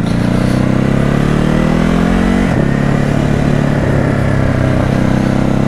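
A motorcycle engine drones steadily under way while being ridden in, its pitch rising and shifting as it revs, loud and close throughout with no one speaking.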